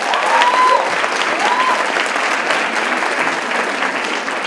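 A crowd at an Afrika Tikkun alumni day in South Africa applauds loudly and continuously, a thick, sustained wash of many hands with a couple of faint whistles near the start.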